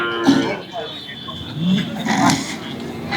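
Kangeyam cattle mooing at a busy cattle market, several deep, drawn-out moos spread through the clip with crowd noise and people talking nearby.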